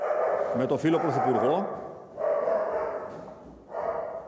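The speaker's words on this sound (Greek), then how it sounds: "Αυτός είναι ο σκύλος τον οποίον πρόσφατα υιοθετήσαμε και ο οποίος ενίοτε είναι λίγο φασαριόζος." A recently adopted dog barks in a quick burst of several loud yips early on, heard beneath a man giving a formal statement, with speech continuing afterward.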